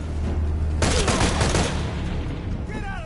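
Burst of gunfire erupting from Shadow of the Tomb Raider, a dense rattling volley that starts abruptly and sustains for about two seconds over a low steady rumble, with voices faintly mixed in.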